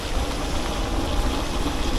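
Rain comes down over an open roadside spot in Rajapur by Highway 66, a continuous wash of patter and watery hiss at constant loudness, with nobody speaking.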